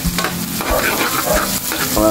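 Onion and ginger sautéing in a hot pan for sweet and sour fish, a loud continuous sizzle with scraping stir strokes throughout.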